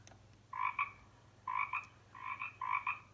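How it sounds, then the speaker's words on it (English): A frog croaks in four short, rhythmic bursts of two or three pulses each, clear and close over a faint steady background hum. "it's a frog"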